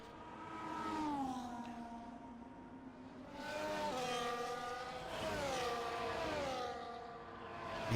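An F1 car in an esports racing game rolls down the pit lane at Spain's Catalunya circuit, its engine whining through rising and falling gear tones as cars pass, moderately loud with no talk.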